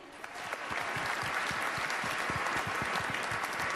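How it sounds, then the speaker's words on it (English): A banquet hall crowd at the 2011 NASCAR Sprint Cup Series awards banquet bursts into sustained applause, dense and steady throughout after a quick build. "One more round of applause for them."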